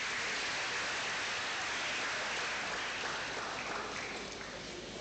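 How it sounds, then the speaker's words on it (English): Applause from a university lecture audience, a steady dense wash of clapping that fades slightly toward the end, with no talk over it. "Please, a round of applause for him."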